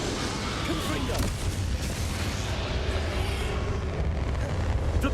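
The Confringo fire spell in the Hogwarts Legacy game bursts with a loud, booming explosion, and a dense roar of rumbling combat noise continues throughout.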